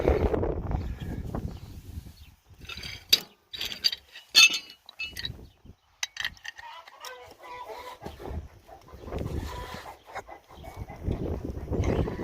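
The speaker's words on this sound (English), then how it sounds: "chickens are making a ruckus behind me here." Chickens clucking and squawking in a farmyard, with scattered bursts of sharp calls and clinks over a low rumble, some near and loud, others fainter in the background.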